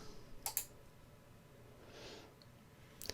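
A computer mouse makes sharp, quiet clicks: a quick pair near the start and another single click at the end, over faint room hiss with a soft breath between.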